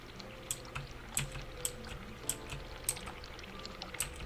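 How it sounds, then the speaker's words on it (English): Cold water runs steadily from a sink tap in the video game The Cat Lady, with a series of sharp, evenly spaced clicks and ticks punctuating the flow. "Turn cold water on."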